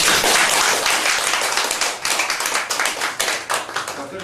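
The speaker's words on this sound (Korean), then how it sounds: "좋은 법을 해주신 보원 선생님께 큰 박수를 하나." Audience applause at a Buddhist Lotus Sutra dharma talk gathering, a dense, sustained clapping of many hands at close range that continues through the whole stretch.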